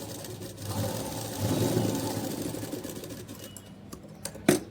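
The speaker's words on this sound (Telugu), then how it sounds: "ఎండ్లో టాప్ స్టిచ్ చేస్తున్నాను." A sewing machine runs steadily while top stitching a blouse, its continuous motor hum and needle clatter filling the space, ending with a brief sharper clunk near the close.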